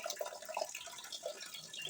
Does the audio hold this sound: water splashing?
yes